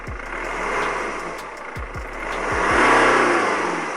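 A 2012 BMW 3 Series E93 with a diesel engine runs close by with a rough, tractor-like clatter, rising in a couple of light revs over a steady idle rumble.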